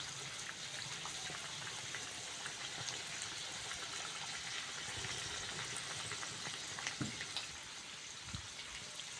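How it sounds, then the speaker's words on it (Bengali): Kachori frying in hot oil, a steady low fizzing crackle of bubbling oil that runs evenly throughout with occasional small pops, close and fairly quiet. "আর একটু লাল লাল করে ভেজে নেবো"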